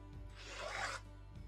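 A rotary or straight blade slicing background fabric for quilt blocks on a cutting mat, a single smooth rasping stroke lasting under a second, close and quiet.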